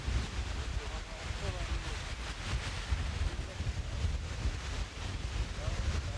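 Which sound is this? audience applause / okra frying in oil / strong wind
strong wind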